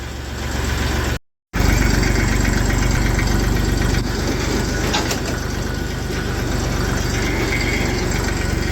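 A Massey Ferguson 35 tractor hauling a sugarcane trolley runs steadily in top gear on a cold day, its close diesel engine droning loud and continuous with a short dropout near the start.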